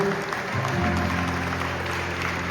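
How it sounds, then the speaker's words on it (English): Wedding reception guests applaud the groom and his proud mother, a dense continuous patter of many hands clapping steadily, with low music sustained underneath. "Let's have a round of applause for our groom and his very proud mother."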